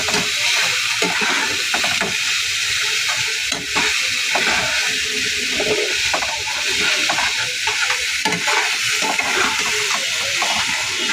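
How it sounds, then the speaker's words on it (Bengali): Garlic, ginger and chilli paste with turmeric sautés in a pan, a loud, continuous bubbling sizzle mixed with frequent stirring scrapes and spatters, close up and without pause. "দিয়ে ভালো করে কষিয়ে নিচ্ছি মশলাটাকে"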